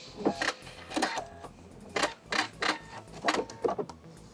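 A sewing machine stitches box pleats into fabric, running in several short bursts of rapid mechanical whirring with brief pauses between them, close and clear with no talk.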